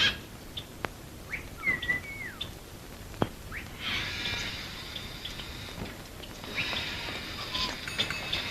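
Assorted small birds in a shop that sells birds chirp and tweet with short calls and whistles, with a couple of denser twittering bursts, moderately near against a quiet room hum, no speech.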